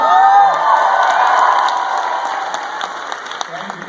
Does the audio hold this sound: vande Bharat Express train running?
no